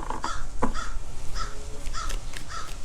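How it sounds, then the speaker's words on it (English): A crow caws repeatedly in short, evenly spaced calls, fairly close and distinct above a constant rushing background noise, with no talking. "Y'all hear that, bird? He chatting."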